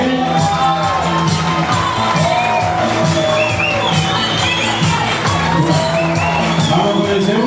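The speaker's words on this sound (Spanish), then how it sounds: "Ahí está el aplauso para él" An audience at a dinner event cheering and applauding for a contestant, with a steady loud crowd roar and scattered whoops and shouts running throughout.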